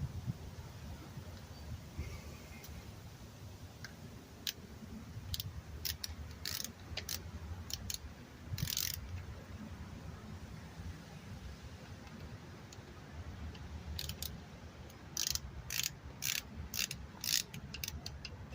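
Torque wrench tightening a transmission pan bolt, faint, soft ratcheting clicks in scattered bursts over a quiet workshop hiss, with a brisker cluster of clicks near the end.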